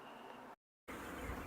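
Honey bees hum around a hive in a dense, steady buzz, briefly cut to silence before resuming louder, with no talk.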